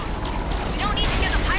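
Gunfire at pirates in the video game Skylanders Trap Team rattles and booms under a speaking voice, with bursts of shots and swooping game effects.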